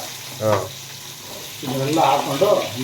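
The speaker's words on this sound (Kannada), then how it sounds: "ಈರುಳ್ಳಿ ಟೊಮೊಟ ಕರಿಬೇವು ಹಸಿಮೆಣಸಿಕಾಯಿ ಇದನ್ನೆಲ್ಲ ಹಾಕ್ಕೊಂಡು ನಾಲ್ಕು ಸ್ಪೂನ್ ಆಯಿಲ್ ಜೊತೆ ಹುರ್ಕೋಬೇಕು" Onion, tomato, curry leaves and green chili frying in oil give off a steady low sizzle, with a voice talking over it in short stretches.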